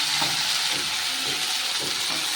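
Tomatoes added to well-fried onions sizzle steadily in a pan for an egg biryani, a dense, even frying hiss with faint stirring scrapes and no voices.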